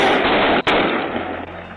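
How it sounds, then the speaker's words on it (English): A police gunshot rings out during a dangerous car chase: one sharp, loud crack cuts briefly through a constant heavy roar of noise. "Shot fired by the police."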